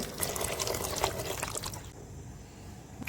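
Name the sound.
boiled water poured into chicken majboos gravy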